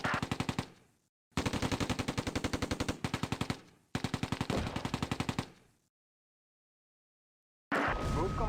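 Heavy machine-gun fire in the Close Combat A Bridge Too Far war game, loud rapid bursts repeating in three long volleys separated by silence, followed by a short burst of other noise.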